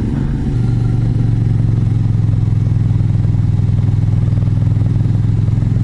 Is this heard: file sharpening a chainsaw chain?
no